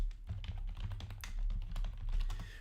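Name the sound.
typing a search on a computer keyboard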